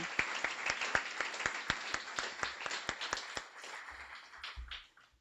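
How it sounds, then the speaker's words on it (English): Audience applause for puppy raisers at a Guiding Eyes guide dog graduation, a fairly quiet, sparse clapping with one sharp, rhythmic clapper standing out near the front, thinning out and fading toward the end. "I'd like to give them a round of applause"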